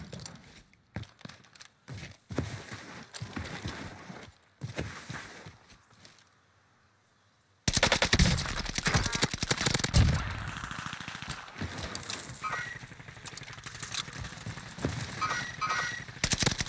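Gunfire in the Warzone battle royale game: scattered, sharp, distant shots, a near-silent pause, then dense, louder rapid bursts that continue almost without a break.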